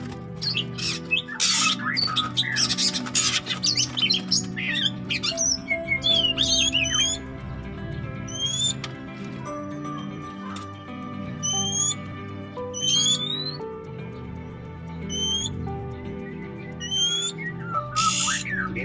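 Oriental magpie-robins in a small breeding cage squawk loudly and keep up a dense run of sharp chirps, rising whistles and harsh scolding calls. They sound close and busy, with no talking.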